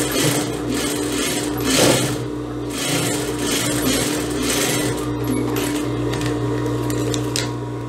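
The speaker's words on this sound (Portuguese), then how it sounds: "eu já venho aqui passando a segunda costura" A sewing machine runs steadily while stitching the second seam of a blouse, a continuous close mechanical whir with faint rhythmic clatter and no pauses.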